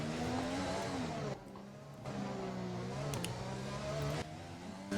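Racing car engine from the F1 2020 video game at the Monaco circuit, loud and continuous with revving rises and drops as gears shift, no talk over it.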